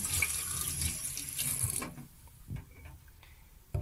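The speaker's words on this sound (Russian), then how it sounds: "Тонкой струйкой аккуратненько наливаем сюда холодной воды." A thin stream of cold tap water pours into a jar packed with cucumbers for cold pickling, a close steady trickling that stops abruptly partway through, followed by a few faint knocks and a clink.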